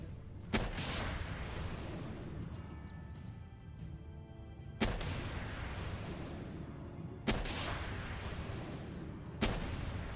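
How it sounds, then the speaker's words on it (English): Grenade launcher fire in a survival video game: four heavy booming blasts spaced a few seconds apart, each followed by a long rumbling, crackling tail that fills the gaps. "Mosanda's grenade launcher is not great against pals, but it's really good against people."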